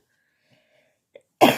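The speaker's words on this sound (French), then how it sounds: "Excusez-moi pour la toux." A single sharp cough bursts out after near silence, loud and close, with no talk around it.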